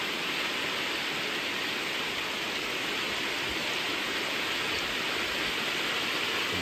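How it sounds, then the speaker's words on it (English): A swollen river spills over its banks beside a campground near Jasper, British Columbia, a loud, unbroken roar of rushing water that fills the whole scene with no other sounds. "River spilling right over."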